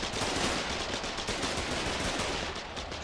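Sustained automatic gunfire in Foxhole, a dense and steady stream of rapid shots that is fairly loud and continuous throughout, with no talk over it.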